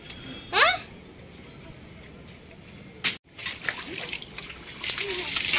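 Cold water splashing on a rooftop during cleaning, a few loud bursts of splash and trickle separated by quieter running water, with voices talking nearby.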